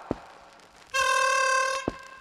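A chromatic harmonica sounds one steady, bright, harmonic-rich note played with a growl technique, lasting under a second and close by, set among soft clicks and quiet room noise.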